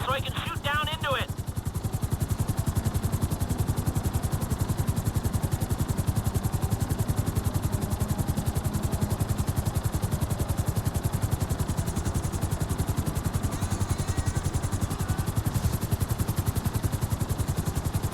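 A helicopter hovers in place in GTA 5, its rotor beating in a fast, even thump that drones on steadily and loudly throughout, with a brief chirpy sound at the very start.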